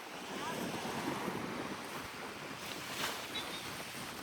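Strong wind buffets the microphone at a seashore while waves surge and wash in continuously, a loud, steady roar of wind and surf throughout.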